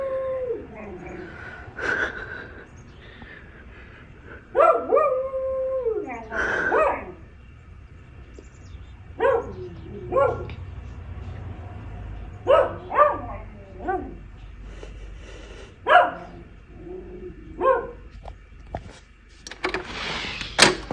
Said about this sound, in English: dog's barking at the dog's barking at objects again.